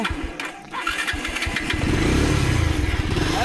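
A motorcycle engine in a rural field setting sputters, catches and settles into a steady close, loud idle with a slight rev, with no talking.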